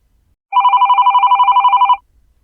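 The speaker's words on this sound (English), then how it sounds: "I want my soft phone to ring." A softphone rings for an incoming SIP call routed through an Asterisk server: a single steady electronic ring tone, lasting about a second and a half, with a fast warbling pulse, loud and clear against silence.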